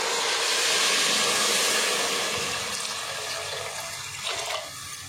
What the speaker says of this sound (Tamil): இப்போ இதோட நம்ம தண்ணி சேர்த்துக்கலாம்.